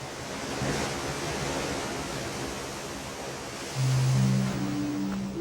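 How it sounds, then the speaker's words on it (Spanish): Sea waves crash forcefully against the volcanic cliff coast of El Golfo, a loud, constant roar of surf with a swell of heavier wash near the end and a faint low tone beneath. "El mar golpea con fuerza contra la acantilada costa volcánica de El Golfo."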